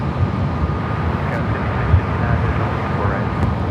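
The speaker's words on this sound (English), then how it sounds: "American Airlines Flight 247 heading to Kona and A321 Neo up next for takeoff" An American Airlines Airbus A321neo bound for Kona takes off at LAX, a broad low jet roar rumbling steadily throughout with speech heard faintly over it.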